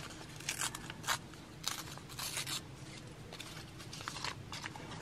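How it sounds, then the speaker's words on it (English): Scissors snip and trim paper for a handmade flower cone craft, a series of crisp crunching cuts and rustles in irregular bursts, close-up and moderately quiet with no speech over them. "Let me use my scissors to get a little bit straighter here."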